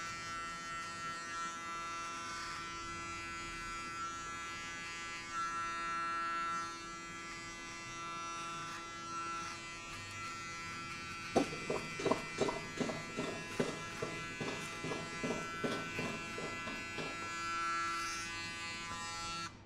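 Electric hair clippers hum steadily close by, then bite into hair during a buzzcut with a rhythmic series of rasping strokes over the continuous buzz.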